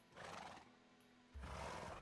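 A horse whinnies in two loud bursts with a quieter gap between, the second stronger and fuller, heard alone without talk.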